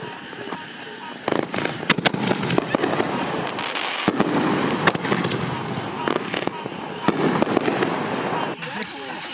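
Backyard July 4th fireworks mortars launch and burst in a rapid string of loud thumps and crackling pops, some close and some more distant, with people talking and exclaiming over them.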